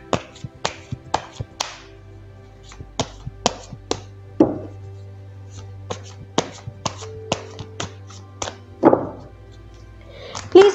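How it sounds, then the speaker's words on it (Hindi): Tarot cards being shuffled by hand give a series of crisp taps and soft slaps at irregular intervals, close and fairly clear over a low steady hum. "तो चलिए पहले ज़रा कार्ड्स को शफल कर लेते हैं।"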